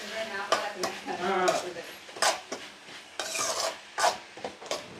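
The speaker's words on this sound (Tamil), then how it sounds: "வெங்காயம் கருவேப்பிலை கொத்தமல்லி தக்காளி இது எல்லாமே போட்டு நல்லா மிக்ஸ் பண்ணுறோம்" Onion, curry leaves, coriander and tomato stirred together in a pan: repeated scraping strokes of a spoon against metal over a light sizzle, with speech-like sounds between strokes.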